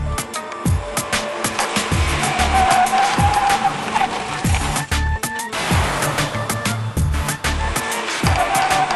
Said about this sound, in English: we're going to stop the car 10 times back to back from 60 miles an hour and measure the distances